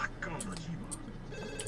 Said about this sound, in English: Yeah, my phone's ringing.